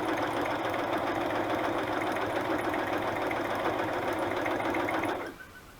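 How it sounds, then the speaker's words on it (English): A sewing machine runs steadily, switching between straight and zigzag stitching while decorating a pink rose journal, a loud continuous mechanical whir with a regular rapid rhythm that stops abruptly near the end. "We're gonna switch between straight stitch and a zigzag, just to give it some interest."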